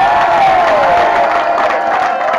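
A wrestling crowd at a women's championship three-way match cheers and applauds steadily for one wrestler, a dense, continuous roar of voices and clapping with a whistle-like tone gliding down through it.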